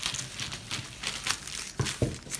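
Scissors snip through a plastic bag tube to even off a jagged end, giving soft crinkling and rustling with a couple of sharper cuts near the end, close and fairly quiet.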